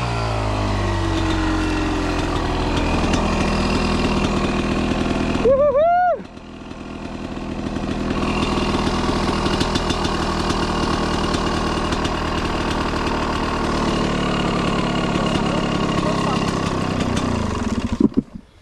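A trail motorcycle at a trail-riding event in Iomerê, Santa Catarina, idles loudly and steadily close by, its engine cutting out briefly mid-way under a rising whine before chugging on again, then stopping near the end.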